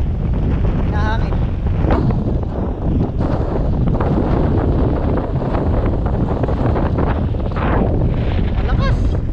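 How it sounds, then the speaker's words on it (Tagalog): Strong wind blows over a boat at sea and buffets the microphone in loud, continuous gusts, with water and hull noise underneath and people talking intermittently. "Pero malakas pa rin po ang hangin."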